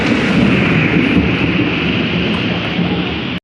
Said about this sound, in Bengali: জোরে বৃষ্টি হচ্ছে আর মেঘ ডাকছে